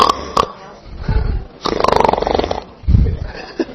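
A voice imitates snoring, making a few rough, rasping inhalation snores in a rhythmic pattern, loud and close, with brief breathy pauses between them.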